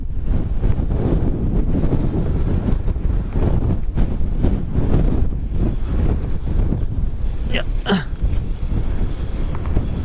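Strong wind buffets the microphone on a motorcycle during a year-end ride through Malico, San Nicolas, making a loud, continuous roaring rumble that never lets up.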